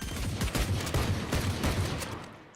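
Rapid gunfire in Valorant crackles in dense, overlapping bursts, loud and close for a couple of seconds, with sharp shots piling into one another before a slight tail-off at the end.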